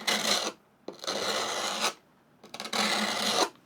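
Carving gouge rubbed back and forth on very aggressive abrasive paper, giving three loud, close rasping strokes with short pauses between them and no talking.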